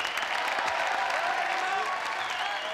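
A TV studio audience applauds as the comedian Marc Jolivet is welcomed onto a French talk show, a steady crowd of clapping hands, with voices and a few cheers mixed in.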